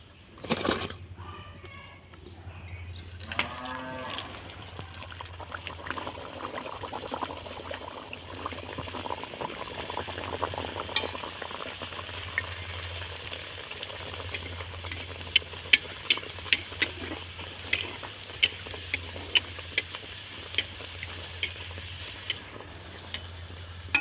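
Colorful luchi flatbreads made with leftover rice deep-fry in hot oil, a steady close sizzle and bubbling throughout with occasional stirring clicks and sharp pops, with no speech heard.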